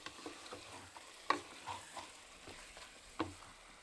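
Beef frying in a pan, a faint, low sizzle broken by a few sharp scraping clicks as the meat is stirred.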